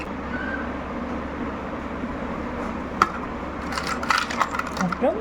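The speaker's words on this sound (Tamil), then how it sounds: "அதுக்கப்புறம் ஐஸ் க்யூப் ஆட் பண்ணிக்கோங்க." Ice cubes dropped into a glass of saunf sharbat, a few sharp clinks and knocks clustered near the end, fairly close over a steady low background hum.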